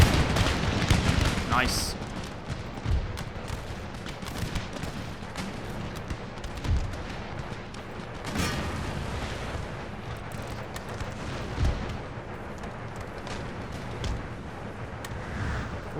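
Musket volleys and artillery fire in an Empire: Total War large battle, Ottoman forces against Russia, rumbling continuous gunfire with heavy booms, dense and loud, with a brief spoken remark over it.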